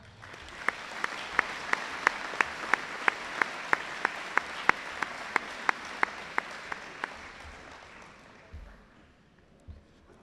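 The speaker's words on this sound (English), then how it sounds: "Could you please join me in a round of applause?" Audience applause at an awards presentation: a crowd clapping steadily with a few louder sharp claps standing out in a regular beat, sustained for about eight seconds before fading away.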